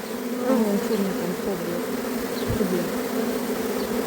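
A swarm of honeybees being collected and drawn into a hive produces a dense, continuous buzzing hum that stays steady and fairly loud throughout, with no speech.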